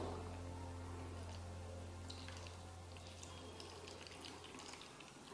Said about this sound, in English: Just wash our hands.